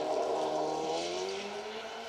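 A Nova 1600 rally car with throttle bodies howls past on a stage rally in Yorkshire, a loud, steady engine note with rising harmonics over about two seconds and no voices.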